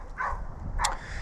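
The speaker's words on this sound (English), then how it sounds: "Sorry about that dog in the background." A dog gives two short faint barks in the background, spaced about half a second apart, distant and alone over quiet room noise.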